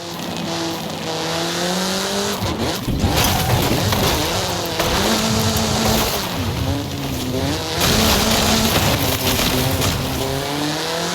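Car in Forza Horizon 5 accelerating hard, its engine revving up through rising gear pulls with brief drops between shifts, loud and close with tire noise, no talk.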